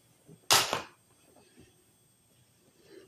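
A single short, sharp hiss of makeup setting spray lasting about half a second, followed by quiet room noise.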